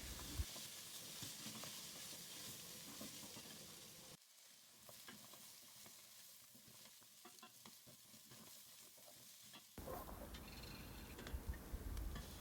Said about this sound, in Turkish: Yıkanmış mercimek, pirinci ve bulguru da ekliyorum. Kavurma işlemine devam edelim.